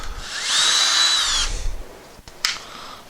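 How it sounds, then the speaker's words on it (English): A power drill whirs steadily as it bores through a wooden pocket door frame, the motor pitch dipping under load, then stops; a short second burst follows. "I'm going to drill through the frame so I don't split it"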